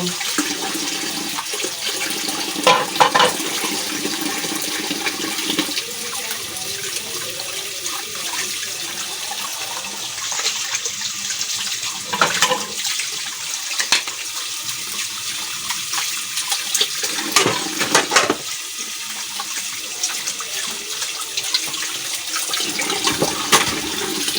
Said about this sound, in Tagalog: maghugas ako ng plato guys